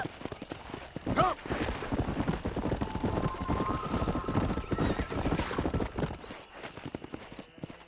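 Horse hooves clatter at a gallop in the Red Dead Redemption video game, a steady fast clip-clop with a whinny early on, loud and close under faint game ambience.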